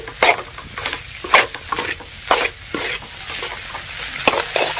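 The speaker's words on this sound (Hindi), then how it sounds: "बट हम और थोड़ा चला लेते हैं अच्छे से, इस तरह से चला के अच्छे से हम और भून लेते हैं" Spiced vegetable masala being stirred and fried in a pan, with repeated scraping strokes of the spoon over a steady sizzle, loud and close, no talking.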